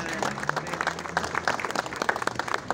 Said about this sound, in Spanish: Un aplauso también por eso.